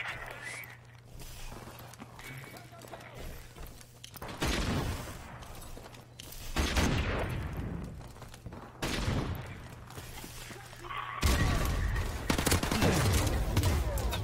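Gunfire in Call of Duty: Modern Warfare Remastered, repeated bursts of rifle shots cracking out in several loud clusters over a steady low game hum, fairly close and dense, with no talking.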